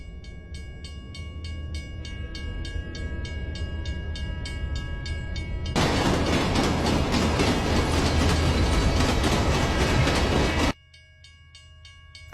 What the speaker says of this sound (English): I could hear the train getting louder and louder